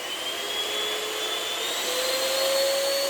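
A stand mixer whirs at turbo speed with a continuous high-pitched motor whine that rises slightly in pitch, loud, close and steady throughout, with no talking.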